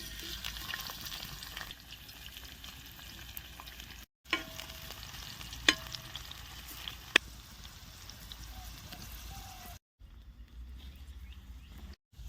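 Onions frying on a hot dosa griddle, a steady close sizzle and crackle running throughout at low level, with a few sharp clinks and two brief dropouts.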